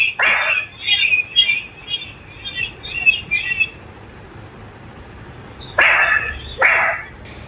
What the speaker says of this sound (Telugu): పక్షులు వేరే పక్షులు చాలా అరుస్తున్నాయి